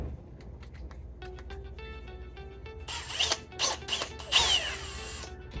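A power drill whirs in short bursts, growing louder and harsher toward the end as the bit grinds through metal, drilling out holes on an HVAC compressor, with clicks and rattles in between.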